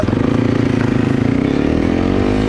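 A Honda CRF 250 Rally motorcycle engine idles and revs with a throaty, steady exhaust pulse, loud and close, rising slightly in pitch toward the end.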